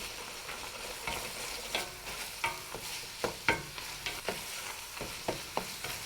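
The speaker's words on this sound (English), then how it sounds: "And now it's time for the tomato paste from Santorini. Saute for 1 minute." Greek meat sauce with Santorini tomato paste sizzles gently in a pan, broken by a series of distinct scraping and tapping stir strokes at uneven intervals, close up and fairly quiet with no talk.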